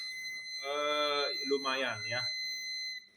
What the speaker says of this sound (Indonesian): Buzzernya sih berisik banget nih, mengganggu ya